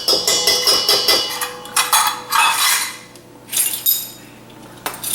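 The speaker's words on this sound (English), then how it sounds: "I'm going to put all my dry ingredients together." Dry brownie ingredients (sugar, flour, cocoa) are measured and combined in a kitchen with repeated metal clinks and taps of spoons and measuring cups against a bowl, loud and close, in a quick rhythm that pauses near the end.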